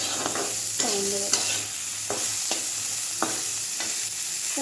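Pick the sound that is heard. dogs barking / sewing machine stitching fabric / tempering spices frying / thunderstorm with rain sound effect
tempering spices frying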